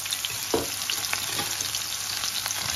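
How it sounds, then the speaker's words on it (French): Onion sizzling as it fries in hot oil, a steady close crackle with a few sharp pops and stirring taps throughout. "En attendant, dans l'huile, je mets l'oignon"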